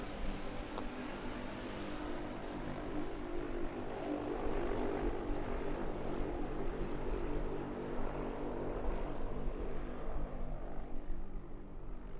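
A light propeller plane drones steadily and loudly in level flight near 2,000 feet, its engine note holding even throughout with no speech.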